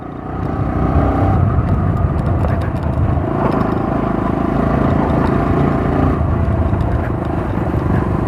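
A motorcycle with a 90/90-section front tire is ridden along a road, its engine droning steadily and loudly with wind rush throughout and no speech.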